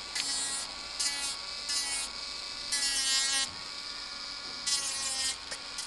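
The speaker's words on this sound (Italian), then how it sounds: "sto impugnando la fresa con la mano sinistra" Electric nail drill buffing the surface of a fingernail, a high whining buzz that rises in repeated short strokes over a constant motor hum, close and moderately loud.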